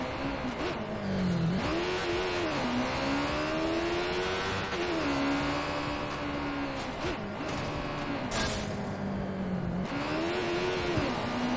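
Motorcycle engine in the video game Watch Dogs 2, a continuous whining drone that climbs and dips repeatedly as the bike revs and shifts, moderately loud and alone with no talk.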